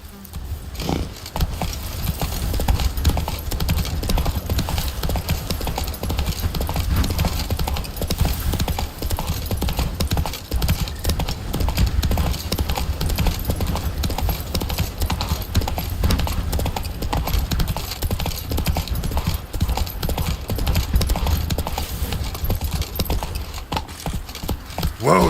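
Roach the horse gallops at a steady, continuous pace in The Witcher 3, hoofbeats thudding loudly and evenly throughout with occasional faint voices in the background.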